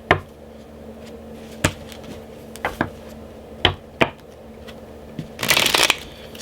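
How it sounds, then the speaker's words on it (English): Oracle cards being shuffled by hand: several sharp, separate card slaps and flicks, then a dense riffling burst near the end, all close and fairly loud, with no speech. "So we're going to pull some oracle cards."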